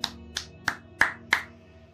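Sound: applause

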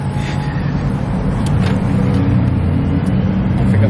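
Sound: city centre street traffic

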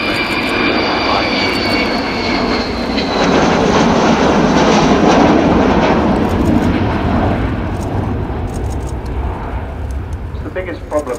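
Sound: Avro Vulcan bomber jet engines flying past

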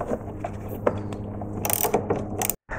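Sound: 10mm ratchet tightening car battery terminal cable

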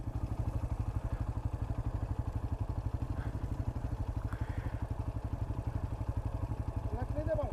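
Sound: motorcycle engine running

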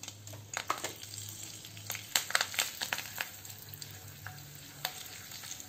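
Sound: spices frying in a pan on low flame

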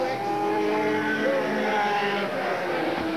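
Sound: superstock race car passing on Eugene Speedway main stretch

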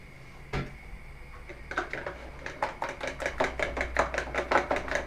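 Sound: whisking two eggs with a little water

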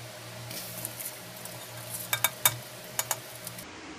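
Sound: rice being added to boiling milk in a pressure cooker

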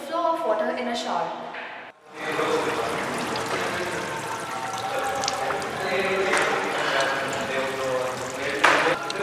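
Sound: water flowing from a shower

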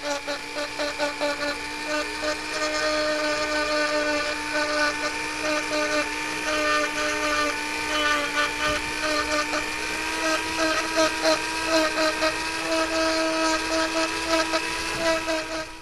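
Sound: power carver with coarse ruby carver bit shaping wood loon

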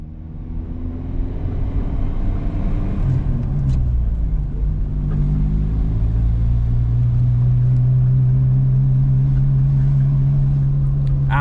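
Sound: Volkswagen Mk2 Jetta driving

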